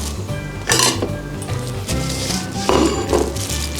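Dishes and utensils clink and clatter against each other in a few sharp knocks over steady background noise while Korean radish salad is plated, close by with no speech.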